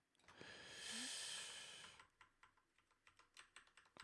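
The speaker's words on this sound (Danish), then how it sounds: "Du må undskylde, hvis du kan høre mit tastatur," Rapid clicks from a mechanical computer keyboard being typed on, a dense burst early on then separate sharp keystrokes in an uneven rhythm, close and fairly quiet with a broad hiss under the start.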